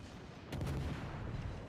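Battleship guns fire in World of Warships: Legends: a single muffled, distant-sounding boom bursts out after a brief hush, then rumbles under faint background noise.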